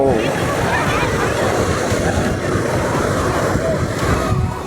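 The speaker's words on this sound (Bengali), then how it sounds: "দেখো ও ঢেউটা দেখো ঢেউটা" Sea waves breaking at Udaypur beach near Digha, a continuous close surf wash with wind buffeting the microphone, while a person speaks over the water.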